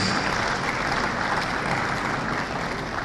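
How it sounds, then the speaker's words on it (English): Audience at a live South East venture capital programme event in Enugu applauding, steady dense clapping from a crowd that fills the hall for a few seconds. "Can we give her a round of applause"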